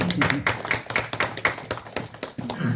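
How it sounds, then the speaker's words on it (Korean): A lecture audience at a Yeosu history school on Yi Sun-sin claps in quick, rhythmic bursts, fairly close and steady for a few seconds, with faint voices mixed in. "이럴 때는 박수 쳐줘야 합니다."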